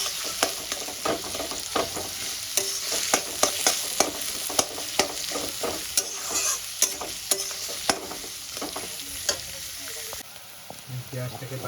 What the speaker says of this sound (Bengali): পেঁয়াজটাকে বাদামি করে ভেজে নিয়েছি